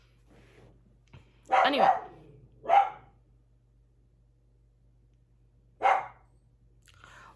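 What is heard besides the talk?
dog barking at someone walking outside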